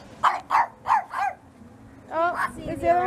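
A pug barks four times in quick succession at close range at a mini golf course, then lets out a couple of higher yips and whimpers after a brief pause.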